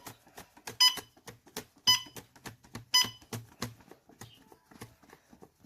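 A Techamor Y401 natural propane gas detector alarm gives sharp, evenly spaced beeps, loud and close at first, then fading and thinning out until it falls quiet.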